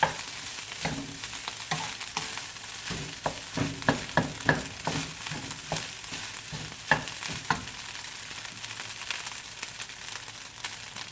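A spatula stirs and scrapes egg and chicken fried rice with spinach in a hot pan. Irregular clatter and soft sizzling run close and moderately loud, with no talking.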